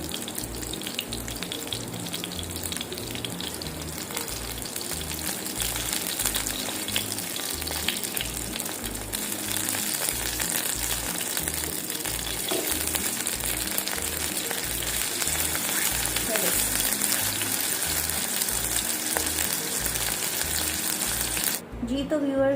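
Chicken burger patties fry in a pan with a steady, continuous sizzle and crackle that holds at an even level throughout, cut off abruptly at the end.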